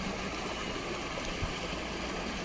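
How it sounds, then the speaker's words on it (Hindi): A small river runs full and fast after morning rain beside Jageshwar Dham, its steady broadband rush of flowing water close and continuous with no voices. "ये देखिए इस नदी में अभी तो काफ़ी जल है, यहाँ से कलकल बहते हुई धारा"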